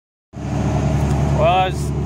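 A Cummins diesel pickup engine kicks on and holds a steady, rumbling high idle with the exhaust brake on, close by, with a brief wavering tone partway through.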